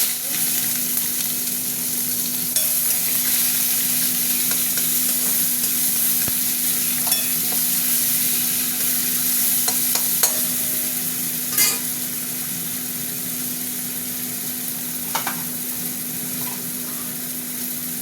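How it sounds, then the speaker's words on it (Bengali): Onions hiss and sizzle steadily in hot oil for a long stretch, close and continuous, with occasional clinks and scrapes of stirring and a faint hum underneath, no talking. "তেল গরম হয়ে গেছে, পেঁয়াজ দিয়ে"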